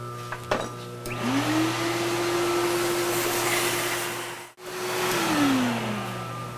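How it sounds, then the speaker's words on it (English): Vacuum cleaner sucking debris out of a hole in cast material, a steady whining drone that rises in pitch as it spins up, briefly cuts out, then resumes and winds down. "I'm gonna vacuum that out"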